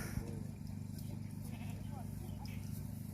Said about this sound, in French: c'est les fameuses brebis que j'ai traquées le jour de la tonte